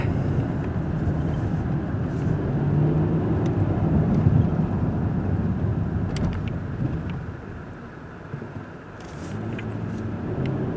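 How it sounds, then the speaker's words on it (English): A 2024 Mercedes GLS 580 driving on dark streets at night, a steady low road and engine rumble from inside the cabin that eases briefly before rising again. "So let's do some dark, dingy street driving."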